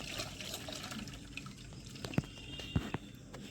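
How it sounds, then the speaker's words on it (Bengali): Boiled potatoes are drained through a strainer in a home kitchen, with soft trickling water and a few sharp drips and clinks, faint and close. "নামিয়ে একটা ছাঁকনিতে ভালো করে ছেঁকে নেব।"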